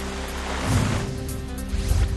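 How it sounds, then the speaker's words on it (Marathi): Heavy nighttime downpour in the Sion area, a loud broadband wash of rain with a steady hum underneath and gusty swells, continuous throughout. "सायन परिसरामध्ये रात्री मुसळधार पावसाची जोरदार हजेरी"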